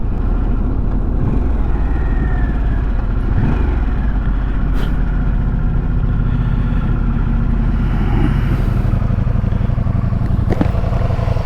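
A 2023 Harley-Davidson Sportster S motorcycle accelerates hard, its engine a loud, continuous close-up roar with a steady low rumble, alone without talk.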